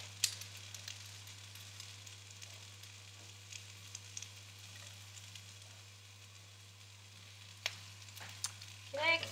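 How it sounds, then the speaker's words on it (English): Chopped garlic and onions fry in a pan with a faint, steady sizzle, broken by occasional small pops and a light stirring scrape near the end. "And fry that off for about another minute. Just be careful that it doesn't burn."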